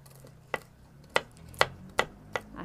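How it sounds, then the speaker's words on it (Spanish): A knife chops walnuts in six distinct, fairly evenly spaced strikes over under three seconds. The dull, close knocks stand out against a quiet room, with no speech. "Las vamos a picar aquí con el cuchillo"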